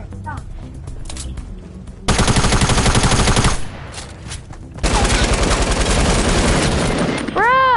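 Loud bursts of rapid automatic gunshots in a Fortnite match come in two long volleys separated by a quieter stretch, with faint game sounds and voices between them.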